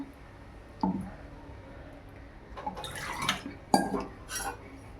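A steel mixer jar is rinsed and the water is tipped into a simmering chicken curry: a few clinks of metal, then splashing and pouring in short bursts, soft and close in a quiet kitchen.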